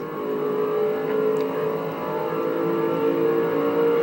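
Steady engine drone of a stock car accelerating in a NASCAR racing game, a continuous revving whir held at an even loudness throughout, with no talking over it.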